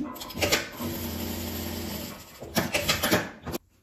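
A sewing machine topstitches a seam with a steady, close mechanical whir, followed by a few bursts of quicker rattling stitches before it stops abruptly.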